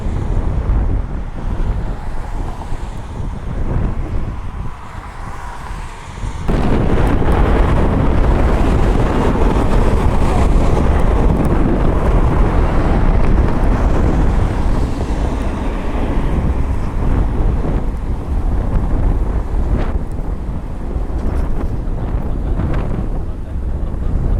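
Strong wind blows across the microphone at Cleveland Hopkins airport during a stormy day, a loud, continuous roaring buffet that grows heavier after the first few seconds and persists steadily throughout.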